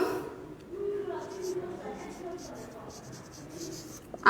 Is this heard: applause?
no